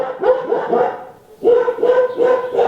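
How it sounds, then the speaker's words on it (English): A dog barks in a series of repeated, fairly loud, near barks, with a short pause midway, in a quiet village setting. "It's my dog."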